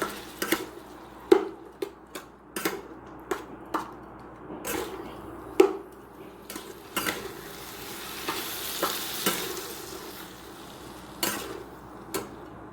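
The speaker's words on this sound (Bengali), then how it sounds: "এটাকে ভালোভাবে একটু মশলাগুলো সব মিশিয়ে নিতে হবে ভিতরে" Spoon stirring shrimp and spices in a hot pan, with repeated sharp scrapes and clinks over a continuous sizzle from the frying, close and loud.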